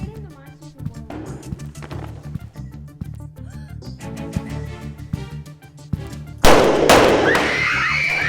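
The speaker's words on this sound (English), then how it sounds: "We've had reports of gunshots in the building." Simulated gunshots crack through a middle school building during a police active-shooter drill, sharp loud bangs among busy talk and clatter, ending in a sustained loud burst of noise.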